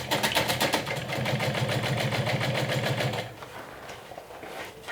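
Sewing machine top stitching the main fabric of a garment with the lining held away, at an eighth-inch seam allowance; a steady, fast mechanical whir with rapid needle rhythm runs for about three seconds, then stops, leaving quiet room tone.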